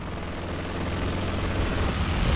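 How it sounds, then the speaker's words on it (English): An aircraft strafing run in Company of Heroes 2 tears across a battlefield as a continuous roar of rapid gunfire with booming impacts, loud and rising slightly toward the end. "Here's the strafing run from YUPA coming through."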